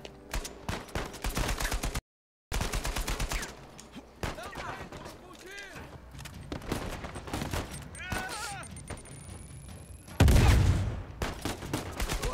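Rapid gunfire from the Uncharted 4 video game, set in Henry Avery's tomb, crackles in dense bursts and volleys, including one loud blast near the end, while a player talks over the shooting.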